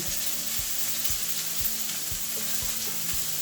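Burger patties frying in a pan give a loud, continuous sizzle with a regular run of low thumps underneath. The sizzle stays even throughout and no one speaks.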